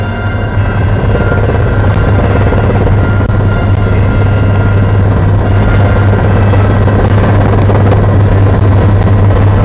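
Military helicopter of the Portuguese Air Force flying over Angola in 1967, its loud steady rotor and engine drone filling the whole stretch continuously and close, with a strong low hum and no voices.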